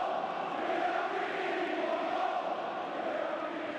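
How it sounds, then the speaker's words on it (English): A football stadium crowd sings and roars together as a broad, steady wash of massed voices heard from a distance, loud and unbroken, with no single voice standing out. "I listen to the crowd now. You can hear him singing"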